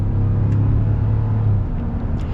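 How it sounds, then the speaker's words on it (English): A Ram 1500 Limited pickup truck accelerates up a hill at night, its engine a steady, close, low rumbling drone with road noise, heard from inside the cab without talk. "Well, rest in peace fuel economy, because we're going up a hill. We have to accelerate to 50 miles an hour."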